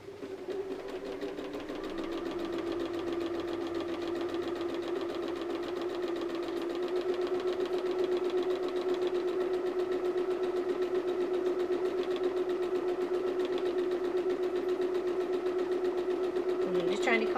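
Straight-stitch sewing machine running steadily for a long stretch, stitching fabric along a drawn line with a regular presser foot; a continuous, even mechanical whir with fine rapid rhythm, close and fairly loud throughout.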